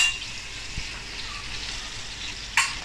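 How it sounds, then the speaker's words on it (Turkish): Flour is toasted in melted butter in a cast iron pan, giving a steady, moderate frying sizzle with a soft utensil scrape and one sharp click near the end. "Ve unu iyice kavuralım."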